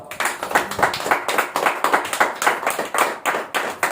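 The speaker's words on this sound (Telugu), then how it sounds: "గట్టిగా చప్పట్లు కొడదాం" A group at a Telugu Christian Bible-teaching gathering claps hard and fast, a dense, continuous run of close, loud claps with no talk over it.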